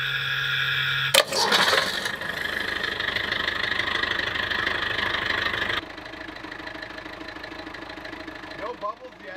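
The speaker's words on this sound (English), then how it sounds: "All right, Colin, start the engine." A car engine with a major engine problem starts and settles into a steady idle, a continuous mid-pitched hum that drops in level partway through, with a voice speaking over it.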